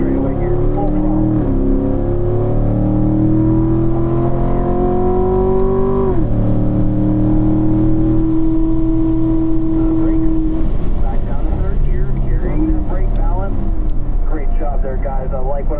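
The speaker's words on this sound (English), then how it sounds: "Full throttle." A car at full throttle down the straightaway of a race track at a driving school. The engine note climbs and strains, drops sharply at a gear change, then climbs again, with someone talking over it.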